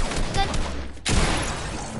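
A submachine gun fires in a video game, a rapid rattling burst of shots cut by a brief pause, then more loud gunfire with low booming underneath.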